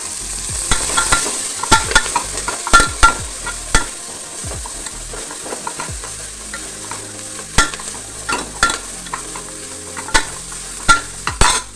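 Garlic, shallots and coriander leaves with salt sautéing in a pan for a drumstick-leaf stir-fry, a soft sizzle under frequent sharp spatula clacks and scrapes in irregular bursts, close up, no talking.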